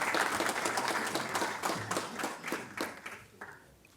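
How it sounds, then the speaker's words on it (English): An audience claps to welcome Professor Arthur Mutambara to the lectern. The applause starts full and dense, with sharp individual claps standing out, then gradually thins and fades toward the end, without speech. "A round of applause, ladies and gentlemen."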